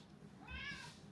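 A pet cat gives a single drawn-out meow near a delivered parcel at home, clear and fairly close, with no one talking over it.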